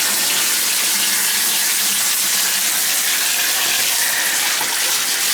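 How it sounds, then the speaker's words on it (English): Water sprays steadily from a Moen tub shower head with a faulty valve, a loud, continuous hiss that stays level the whole time with no talking. "Shower head on."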